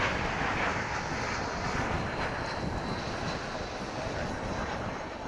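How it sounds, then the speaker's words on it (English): A Delta airliner departs DFW airport bound for Salt Lake City, its engines giving a steady, loud broadband roar that holds evenly throughout with no voices. "This is Delta flight 2474 going to Salt Lake City"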